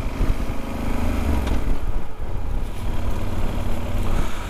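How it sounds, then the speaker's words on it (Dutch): A large moped rides over a bumpy lane, its engine droning steadily and close with a rough, uneven rumble and slight shifts in pitch as it bounces along. "In deze grote brommer, of op deze grote brommer, rijd ik over een hobbelig weggetje."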